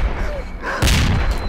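A single loud gunshot from a weapon in STALKER in the Red Forest, a sharp blast cracking out abruptly after a quieter ambient stretch and leaving a short rumbling tail.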